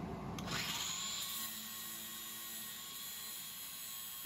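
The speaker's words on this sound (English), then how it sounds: "I'll turn the blower on." Dust and fume extraction blower in a garage shop roaring steadily, a constant loud broadband whoosh with a faint tonal hum, starting up with a brief knock at the outset and then running alone.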